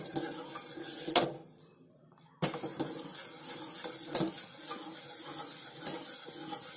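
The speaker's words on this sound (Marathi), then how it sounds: "आता हे सारखं ढवळत राहते मी आणि तुम्हाला दाखवते किती मिनिटांनी किती आटत दूध ते" Milk is stirred in a metal pot on the stove while being reduced into homemade condensed milk, a spoon scraping and clinking against the pan in close, irregular strokes with a short pause partway.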